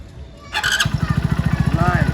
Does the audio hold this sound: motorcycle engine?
yes